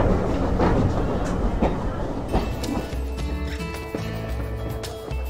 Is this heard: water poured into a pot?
no